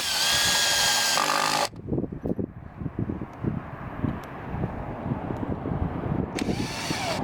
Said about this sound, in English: So we're going to provide you with 3-inch screws and a